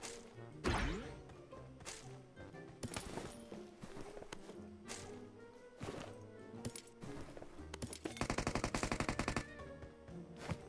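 Gunfire in a video game as a teammate shoots an enemy: scattered single shots, then a fast rapid-fire burst toward the end, quiet overall and mixed with other game sounds.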